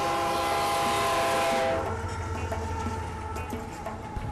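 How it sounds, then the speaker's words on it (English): A train passes near Jess and Jims Family Steakhouse in Martin City, Kansas, its horn blaring loud and sustained before giving way to a steady rumbling roll of the cars with faint clacking, no voices. "You got to watch for the train."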